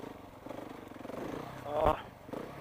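A Yamaha Tenere motorcycle engine labours up a mountain climb, a steady rumbling drone that swells briefly near the end, heard close with some clatter.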